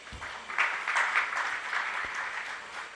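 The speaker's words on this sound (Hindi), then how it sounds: "तालियों के माध्यम से हम इनका अभिनंदन करें।" Audience applause at a spiritual discourse gathering, a burst of clapping rising quickly and holding steady at moderate volume for a few seconds, with a faint voice under it.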